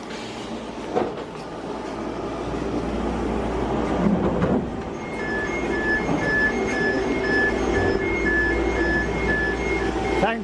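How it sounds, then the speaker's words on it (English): A triple-car train rumbles past nearby, its steady low roar and rattling wheels filling the scene, with tonal beeping or horn-like notes sounding over it partway through. "Have a look at the train now."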